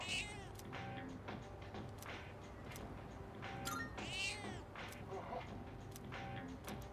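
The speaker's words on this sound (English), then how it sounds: "We have to feed the cat." A cat meowing repeatedly in Persona 3 Reload, several drawn-out mews rising and falling over a steady background of game music, moderately loud and close.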